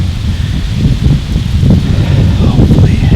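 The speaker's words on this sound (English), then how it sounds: "I'm just kind of blasted by these gusts of wind on this little ridge" Strong wind gusts buffet a small ridge during a cold Wisconsin rut bowhunt, a loud steady low roar of wind noise with surging gusts throughout.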